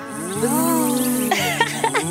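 A voice imitates a bee buzzing around purple and yellow flowers, giving a rising and falling hummed buzz followed by a few shorter buzzy bursts, close and loud with no other sound.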